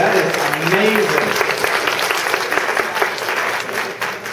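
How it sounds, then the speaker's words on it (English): Audience at a Mittleider garden class clapping together in a sustained round of applause, dense and fairly close, with a voice heard briefly at the start. "give them a round of applause"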